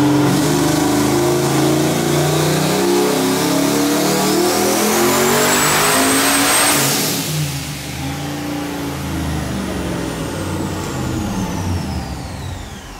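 An LS-swapped Mazda RX-7 ('8 Rotor' build) roars on a dyno pull, its loud engine note climbing steadily in pitch to a peak near seven seconds, then falling away as the revs drop. No talking.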